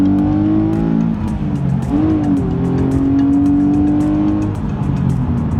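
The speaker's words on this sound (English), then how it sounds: "we are about to merge onto the interstate. I'm going to push the car a little bit" A 2011 Nissan 370Z with a manual gearbox accelerates while merging onto an interstate. Its engine drones loud and close, with the pitch climbing steadily through the run and no voices over it.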